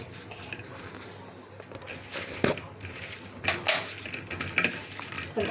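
Pan-fried masala mixture with added salt, tossed and stir-fried, brings repeated metal spoon scrapes and clinks against the pan in an irregular rhythm over a low kitchen background, with a little faint talk.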